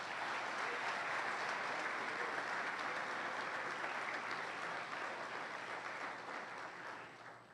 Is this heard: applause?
yes